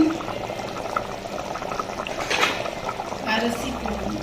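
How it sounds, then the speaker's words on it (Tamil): Water is poured into a cooking pot holding cooked mutton with curd, mint, lemon and salt. It makes a steady, soft, close pour-and-trickle over a low kitchen hiss with faint background voices. "தேவையான அளவு தண்ணீர் ஊற்றி கொதித்த பின்"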